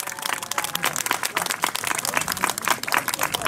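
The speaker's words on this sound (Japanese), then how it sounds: "大きな拍手ありがとうございました" An audience applauds at the awards ceremony for round 7 of the 2019 All-Japan Trial Championship in Tohoku, a dense, steady crackle of many hands clapping that holds evenly from start to finish.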